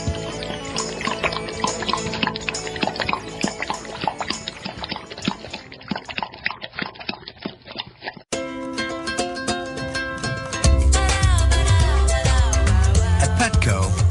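Water pours steadily with splashing and trickling for several seconds, after which a loud music bed with a strong bass beat takes over.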